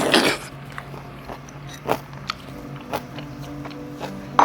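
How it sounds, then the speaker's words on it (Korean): Someone eats tteokbokki topped with green onion, with close, intermittent biting and soft chewing sounds plus a few small mouth noises, heard without speech. "저는 요 대파랑 떡볶이 같이 먹는 거 좋아하죠"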